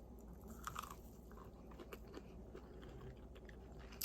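Close, quiet chewing of a southern-style buttermilk swim biscuit, soft crunchy bites and mastication repeating over a low steady background hum, with no talking.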